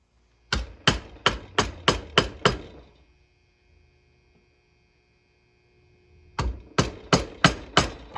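Sharp, close hammer blows on a chisel stamping maker's mark initials into a handle, a rapid run of seven strikes, a quiet pause, then another quick series of six.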